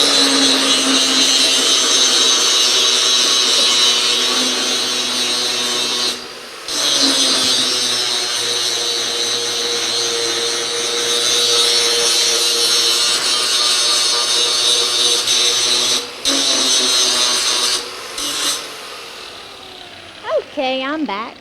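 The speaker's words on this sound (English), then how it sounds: "I'm telling you, more power tools." A power tool used by a farrier trimming a horse's hoof, running loudly and continuously with a steady whine, briefly cutting out twice before winding down at the end.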